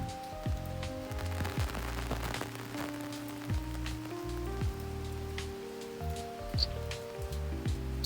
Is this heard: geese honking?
no